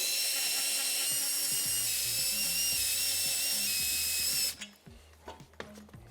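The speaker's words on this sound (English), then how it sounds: "You can speed that up a lot using a socket attachment on an electric drill." A high-pitched electric drill with a socket attachment whines steadily for several seconds removing car lug nuts, then cuts off abruptly, followed by a few short metallic clunks and clicks.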